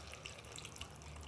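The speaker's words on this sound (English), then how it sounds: "I pour it in," Filtered water pours steadily into a cooking pot of sweet potato and pumpkin soup, a brief, even splashing stream with no voices.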